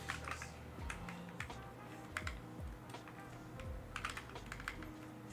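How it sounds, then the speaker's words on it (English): Computer keyboard typing in bursts of quick clicks with short pauses, fairly close and steady over a low background hum, no talking. "I promise I'm gonna get better at typing"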